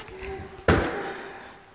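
The front door of a house shuts with a single sharp thump partway through, followed by a short fading rattle, against a faint room background with a low hum.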